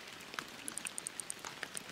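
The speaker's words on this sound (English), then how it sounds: "Cloudy and rainy." Rain in the Fishing Planet video game on a cloudy morning at an alligator gar spot in Quanchkin, Louisiana: a steady soft patter with scattered bright droplet ticks, fairly quiet, no talking.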